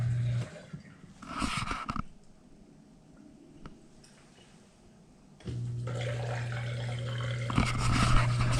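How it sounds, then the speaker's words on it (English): A Bosch dishwasher's newly installed drain pump hums and gurgles water out, a steady low drone with sloshing that drops away briefly and then returns louder, heard close up with no talking. "That sound is a functioning drain pump."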